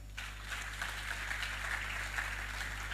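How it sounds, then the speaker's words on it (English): An audience at an event clapping for themselves, a thin, distant patter of applause over a strong steady low hum, continuing evenly for a few seconds. "I think you should clap for yourselves."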